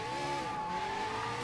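Motorbike in the video game Sleeping Dogs racing at speed, engine whining steadily at a high pitch while the tires skid and squeal continuously, close and loud throughout.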